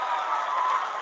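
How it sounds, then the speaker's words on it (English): Crowd applause from an audience gathered for a live ISRO lunar lander mission broadcast, a steady dense wash of clapping held at an even level throughout. "People are applauding."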